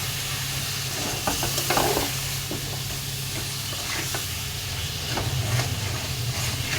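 Raw chicken pieces land in hot oil for a chicken khichuri and hiss with steady steam and sizzle, along with occasional clinks of stirring. The sound stays close and quite quiet, with no speech.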